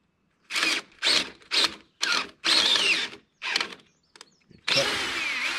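A power drill bores into a wooden post-and-beam timber in short separate bursts, about seven close whirring runs with gaps between them, ending in a longer sustained spin.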